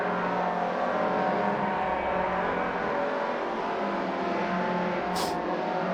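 BMW Compact Cup race cars at the Cadwell Park circuit, with a steady loud engine drone carried through the whole stretch, a brief high squeal near the end and no talk.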